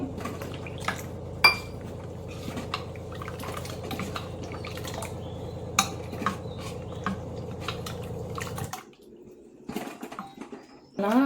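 Water is stirred into a thin jowar flour batter for dosa, with liquid sloshing, drips and repeated spoon clinks against a bowl, steady for most of the time and then briefly dropping away near the end, with no talk.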